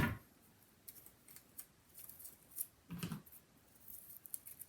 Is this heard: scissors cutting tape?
yes